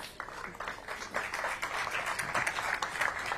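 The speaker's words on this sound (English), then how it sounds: "Let's give them a big round of applause." An audience at a business event applauds, a steady, dense wash of many hands clapping at moderate loudness throughout.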